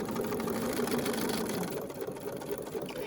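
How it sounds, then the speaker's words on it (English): A sewing machine stitching a seam in foundation paper piecing for a quilt block, a close, steady mechanical whir and rapid needle chatter that slows and softens partway through, with no talking. "take a couple of back stitches to lock things in place, and then stitch forward, removing the clips as you sew"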